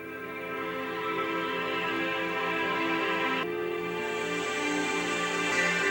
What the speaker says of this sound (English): It's known that the manifesting frequency is 432 Hz or Hertz.